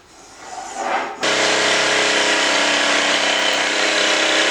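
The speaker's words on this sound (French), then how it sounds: "Ébauche à la scie sauteuse." A jigsaw suddenly starts after a rising rasp and then runs loud and steady, cutting continuously through MDF with a harsh buzzing drone.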